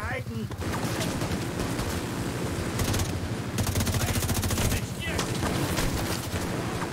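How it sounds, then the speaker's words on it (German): Rapid bursts of automatic gunfire crackle continuously in a The Division 2 shooter game on PS5, with a canister exploding amid the shooting while someone talks over the action. "Das ist der Kanister explodiert."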